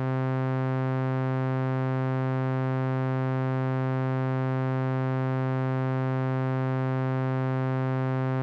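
A synthesizer note held steady at its sustain level, a rich buzzy tone with many even harmonics droning at constant loudness throughout, alone with no voices.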